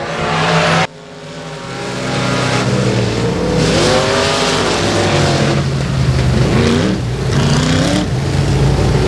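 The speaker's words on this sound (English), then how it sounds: "Pro Mod Heat Race number 1 on the racetrack" Pro Mod race cars roar around Boothill Speedway during a heat race, a loud, continuous engine drone with rising and falling revs as cars pass close by.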